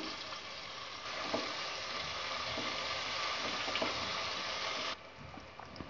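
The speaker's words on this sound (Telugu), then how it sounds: "ఇప్పుడు ఇందులో నేను ఆనియన్స్ వేస్తున్నాను." Onions fry with spices in a hot pan, giving a loud, steady close-up sizzle that runs unbroken and drops in level near the end.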